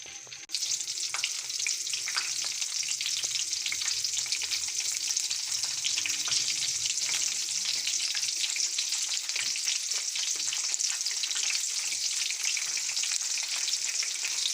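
Eggplant pieces fry in about two cups of hot oil in a kadai, making a loud, dense, continuous crackling sizzle that starts abruptly and holds steady throughout, with no talking.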